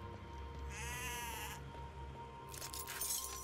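Sheep bleat in the horror zombie game Sker Ritual, two wavering cries a second or so apart, moderately loud over a low droning ambient background.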